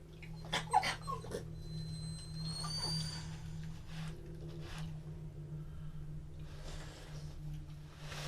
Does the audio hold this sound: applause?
no